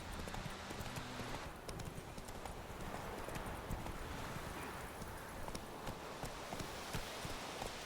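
Roach, Geralt's horse in The Witcher 3, trots with steady clip-clop hoofbeats over soft wind and ambient noise, the rhythm continuing evenly throughout.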